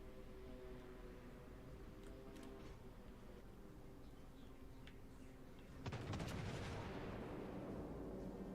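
Naval guns firing in the World of Warships: Legends game, scattered distant booms and ticking early on, then a louder burst of shots with heavier rumbling continuing to the end.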